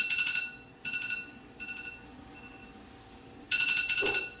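An alarm clock rings in bursts of shrill repeated electronic beeping inside a horror story game. Several short bursts come close and loud with gaps between them, and a final loud burst ends the clip.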